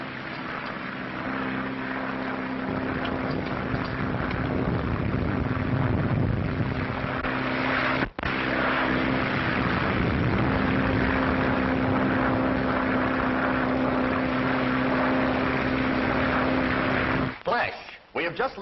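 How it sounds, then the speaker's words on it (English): A 1930s propeller airplane crossing the Atlantic through storms drones steadily for the full length, a loud continuous engine roar with a brief cutout near the middle and a break at the end. "establishing contact with Dick Bennett, who is piloting his plane through terrific storms across the Atlantic Ocean"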